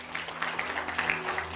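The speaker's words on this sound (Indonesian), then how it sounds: "Tepuk tangan bagi dia." Applause from a church congregation at a Family Blessing worship service in Semarang, a soft, steady patter of many hands clapping at a distance, fairly quiet throughout.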